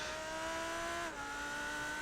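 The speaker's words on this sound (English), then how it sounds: "that does sound like an Audi." A steady, droning Audi race car engine in a 12-hour Monza esports racing game holds a high, sustained tone, then shifts down briefly as if changing gear before carrying on at full volume.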